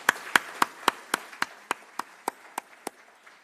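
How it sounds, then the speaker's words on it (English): A small handful of people clap at an accelerator pitch night: about a dozen sharp, evenly spaced claps that start fairly strong and slowly fade, with no talking. "A round of applause for all of them,"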